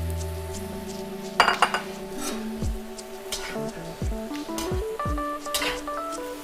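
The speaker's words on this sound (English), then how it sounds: "just gonna mix everything up nice and evenly" Shrimp fried rice with parsley flakes and scallions being mixed in a wok, with irregular metallic clinks and scrapes of a utensil against the pan and a faint sizzle underneath, close up.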